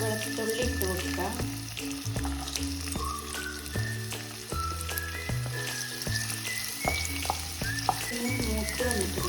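Garlic sizzles and fries steadily in hot sesame oil in a heated pan, a continuous close crackle with occasional stirring clicks, no voices.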